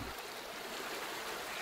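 A river flowing in the video game Kingdom Come: a steady, faint rushing of water, a brief, even stream with no other sounds.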